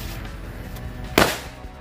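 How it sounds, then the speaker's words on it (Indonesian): A pink UFO flying-saucer firecracker sets off a single sharp burst near the middle of the clip, standing loud and close over steady outdoor background noise during Lebaran celebrations. "Yang selanjutnya ini adalah mercon UFO warna pink guys, atau mercon piring terbang"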